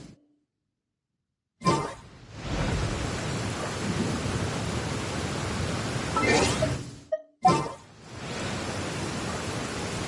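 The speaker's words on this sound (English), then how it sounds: "Don't stay out in the rain for too long." Heavy rain and rolling thunder in Genshin Impact, beginning after a quiet pause with a loud crack and rumble, then a steady downpour hiss broken by another sharp thunder burst, loud and near.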